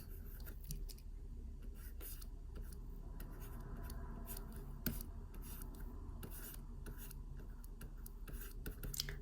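A pen scratches and rasps on paper drawing a cartoon face, close and quiet, with brief, irregular strokes and taps.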